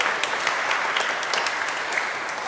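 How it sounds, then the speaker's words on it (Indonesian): Steady audience applause for children who have just sung in a school choir at an opening-of-year Mass, a dense, even wash of clapping that fills the whole stretch without pause. "Kita beri tepuk tangan untuk anak-anak kita yang sudah bernyanyi dengan luar biasa."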